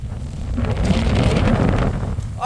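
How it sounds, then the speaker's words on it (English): Strong winter wind in Norway roars and buffets the microphone in a loud, steady rush while a bicycle is pushed along, with no clear talk. "The wind is blowing me, so how am I supposed to push bicycle?"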